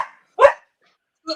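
A dog barks in short, loud, separate bursts close by, with long silent gaps between the barks.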